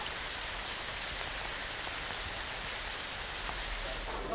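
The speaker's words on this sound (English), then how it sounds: "it's still bucketing down" Heavy rain pours down steadily at a motorcycle racing track, a dense, constant hiss of drops hitting surfaces with no other sounds standing out.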